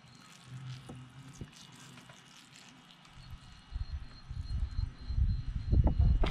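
Water poured onto soil in a potted horse chestnut seed pot splashes and gurgles, growing louder and fuller toward the end, with a soft trickling quality and faint background hiss.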